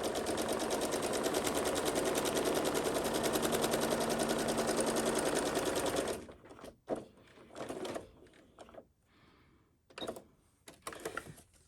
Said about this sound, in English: I'm going to sew an inch on this side of the nose wire.